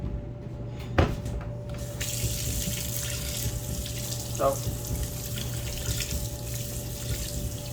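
Water runs steadily from a tap into a sink while testing a waterproof case, a constant rushing hiss with a couple of brief knocks, and one short spoken word early on.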